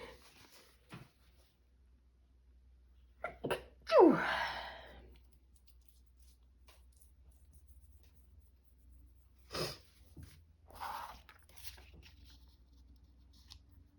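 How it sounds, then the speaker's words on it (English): A single close, sharp sneeze with a breathy exhale at a crafting desk during junk journal making, followed by faint rustles and a couple of small taps in an otherwise quiet room. "I'm gonna sneeze."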